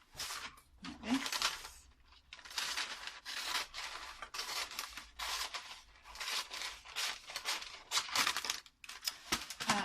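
Baking parchment for lining a cake tin being pulled out in a long length and handled, giving repeated bursts of crisp crinkling and rustling with short pauses between, close and fairly loud.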